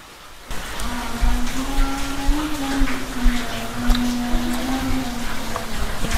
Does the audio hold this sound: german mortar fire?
no